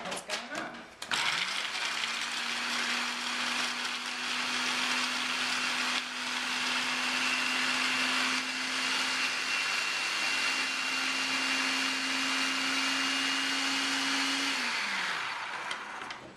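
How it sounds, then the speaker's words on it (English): A blender pulses raw almond pâté with a steady, loud motor whir that holds for about fourteen seconds, then spins down, under scraping and grinding of the thick mixture. "we're going to pulse this. It's going to be loud for a second."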